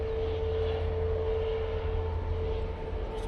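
A Virgin airliner passing the control tower at Manchester Airport gives a steady, continuous engine drone with a constant tonal hum, fairly loud and even throughout, with no talk.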